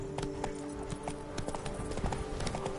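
Roach the horse gallops in The Witcher 3: Blood and Wine, a steady, rapid clip-clop of hooves close by and fairly quiet, with a faint low background hum.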